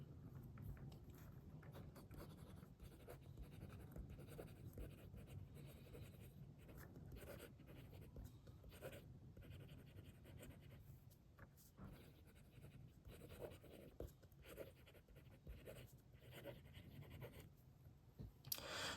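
Soft, continuous scratching of a fine, fairly stiff steel nib on a brass Kaweco Sport fountain pen writing on paper, quiet and close, with irregular stroke rhythms.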